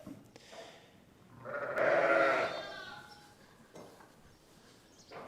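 Ewes in lambing pens let out one loud, wavering bleat in the middle of a quiet barn, with faint bumps and shuffling before and after.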